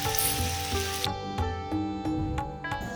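Poori frying in hot oil for the Karnataka dish poori sagoo, giving a steady, close crackling sizzle with small pops throughout, no voices.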